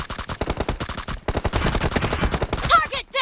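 Rapid bursts of suppressed gunfire from a video game, a dense run of sharp, evenly spaced shots filling most of the stretch, with brief pauses and some game effects near the end.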